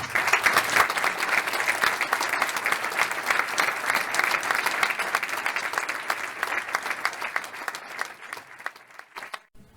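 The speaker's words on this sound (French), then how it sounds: "Et je vous demande, s'il vous plaît, d'applaudir Madame Maud Christen, s'il vous plaît." An audience at a conference gives sustained applause, strong and close at first, then thinning and fading out near the end.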